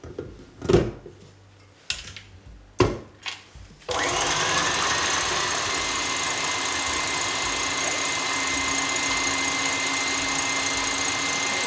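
An electric mixer whirs continuously, beating egg whites to a froth for macarons; a few short knocks and clatters come first, then the steady motor drone holds loud and even to the end.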